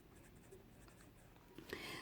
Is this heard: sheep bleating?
no